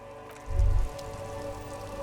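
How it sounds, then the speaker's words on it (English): Steady rain falling over the city of Revachol in Disco Elysium, dripping from eaves and filling gutters, a faint continuous patter with a brief low rumble partway through, no voices. "All around you, rain falls on the great city of Revachol. Rain drips from the eaves and floods the gutters"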